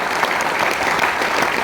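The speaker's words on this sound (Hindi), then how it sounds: "मैं चाहूंगा सर लोगों के लिए ताली" An audience at a speech program breaks into steady, dense clapping, loud and close throughout, with no voices over it.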